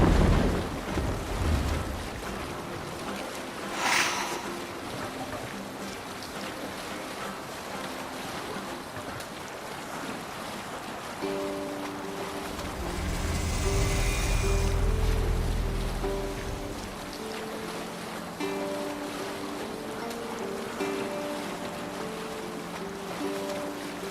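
A longship under sail on open sea in Assassin's Creed Valhalla, with steady wash of waves and wind around the hull, a surge of rushing water midway, and faint tonal music underneath.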